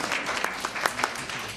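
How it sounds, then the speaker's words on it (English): An audience at a talk breaks into applause, a busy, fairly close patter of many hands clapping with a few louder individual claps standing out. "More applause."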